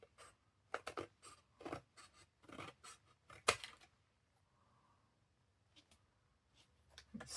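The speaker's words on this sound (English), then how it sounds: "my cutting is shocking" Scissors snip through paper being cut for a journal cover topper, a series of close, quiet cuts in uneven bursts with short pauses between them, no talk.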